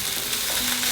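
Impossible beef frying in a pan with coriander, salt and pepper being mixed in, a dense, even, loud sizzle that holds steady throughout the short moment, with no voices.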